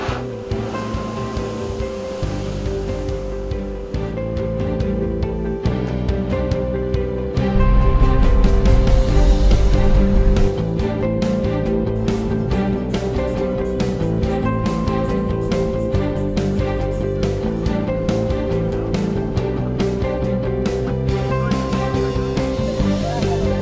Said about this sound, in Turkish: Hatta volkanik kayalara çarpan okyanus sularının bazen 30 metre